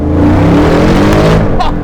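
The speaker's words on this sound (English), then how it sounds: "do we try a second gear pull?" Old Corvette accelerating hard in second gear, a loud close rising engine roar with a rough droning exhaust that climbs steadily in pitch throughout, with a faint squeal near the end.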